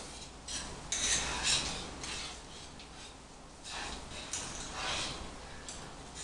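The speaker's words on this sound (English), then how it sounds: "Add the cheese to the roux. Mix that up." Cheese is mixed into a roux for macaroni and cheese: a spoon scrapes and swishes through the thick sauce in a pot, close and soft, in uneven strokes with clinks of utensil on metal.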